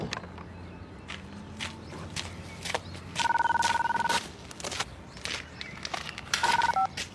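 A telephone is dialed in a German police drama scene. Two bursts of electronic keypad tones sound, one longer and one shorter, with scattered footsteps and room noise around them.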